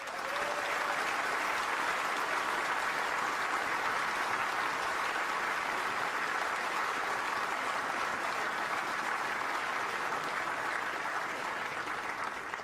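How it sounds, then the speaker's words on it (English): Sustained, dense audience applause for two snooker finalists and the championship's players at the Crucible, steady and loud throughout with no break. "please your applause for the 2 finalists"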